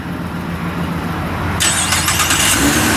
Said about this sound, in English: it does have an auto start to it, so I want to give it a shot